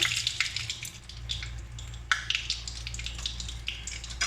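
Mustard seeds and urad dal spluttering in hot oil while tempering for carrot rice, a steady crackle of small sharp pops and sizzle, moderately close, with a few louder bursts and no talk.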